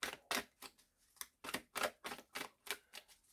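An oracle card deck being cut and laid out makes a quick run of close, crisp card snaps and slaps, about a dozen in a fairly even rhythm, quiet and with no talk.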